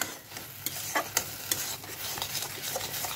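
Tomato and eggplant being stirred and mashed in a wok for a bharta, with a steady soft sizzle and repeated scraping knocks of the spoon, close and alone without talk.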